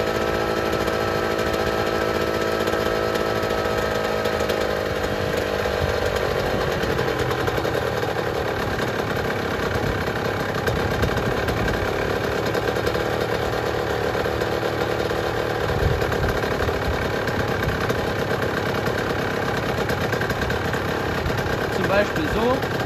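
Small engine idling steadily and close by while its carburetor idle speed is adjusted, a continuous buzzing drone that settles slightly lower partway through, with no talk over it.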